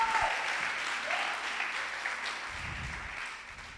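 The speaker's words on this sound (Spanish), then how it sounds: "Alguien dale un aplauso fuerte al Señor en esta hora." Congregation clapping in church, a dense, loud, sustained wash of applause from many hands, with a brief low murmur near the end and no clear talk.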